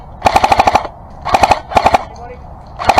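Bursts of automatic fire from a Matrix M4 LMG airsoft gun during a game, delivered as short rapid strings of sharp cracks in four separate bursts with pauses between them, close and loud.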